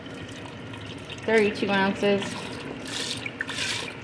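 Chicken broth from a quart carton is poured into a pot for chicken enchilada soup, giving a soft liquid splash and trickle beneath a brief spoken phrase.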